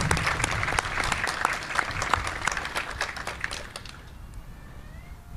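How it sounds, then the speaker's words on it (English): A crowd applauds at a U.S. Army Special Operations Memorial Day ceremony after the National Anthem, a thick burst of clapping with sharp individual claps that thins and fades toward the end, no speech over it. "Can I get one more round of applause for Amelia?"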